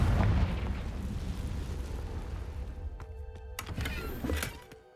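A Confringo explosion spell goes off in a Harry Potter video game: a loud, deep blast at the start with a rumbling low tail, followed by fainter magical crackles and a brief whooshing burst near the end.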